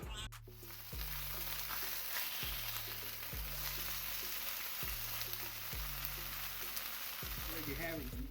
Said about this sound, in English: And then with the Canadian bacon, we're just browning that.